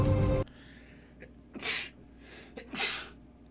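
A single sharp sneeze up close, preceded by a short breathy intake, with a couple of hissing breaths and faint rustling afterward in a quiet room.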